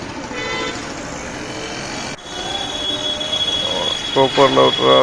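A metro train at Kopar station rumbles and rolls along the track with steady mechanical noise, then high squealing wheels and tooting tones rise near the end.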